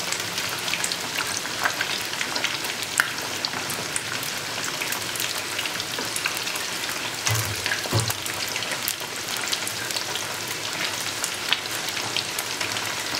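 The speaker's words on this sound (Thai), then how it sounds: "บางทีพวกของทอดอย่างเงี้ยเราก ็บอกไม่ได้เป๊ะๆเหมือนกันครับว่าต้องทอดกี่นาที" Thai pork-intestine sausage deep-frying with garlic in hot oil gives a steady, dense crackling sizzle that runs throughout, with scattered sharper pops and a couple of low bumps around the middle, fairly close and without talk.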